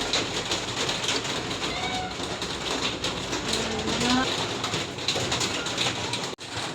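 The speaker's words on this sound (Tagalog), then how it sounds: "Ang lakas ng ulan." Heavy rain pours down steadily in a dense, hissing wash, close and continuous, during home cooking of suman kamoteng kahoy.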